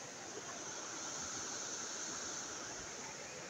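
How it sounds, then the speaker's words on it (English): Flooded river rushing after a night of steady rain near a village house, a constant broad roar of flowing water, steady and moderately distant with no voices. "You can hear the river."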